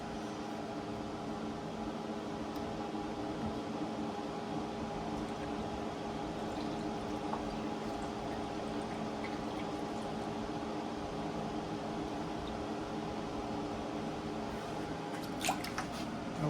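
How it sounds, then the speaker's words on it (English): Water poured from a bucket into a rock tumbler barrel full of rocks, a soft, steady liquid splash and trickle lasting throughout over a constant low mechanical hum, with a few faint drips near the end. "I'm just going to pour it out of this bucket"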